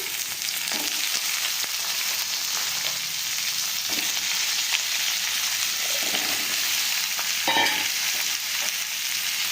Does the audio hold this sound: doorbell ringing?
no